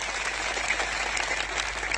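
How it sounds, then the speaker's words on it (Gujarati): Dense, steady applause from a large crowd at an outdoor political rally in Aravalli, clapping continuously and loudly with no voices rising above it. "એકવાર જોરદાર તાળીઓ પાડી લો."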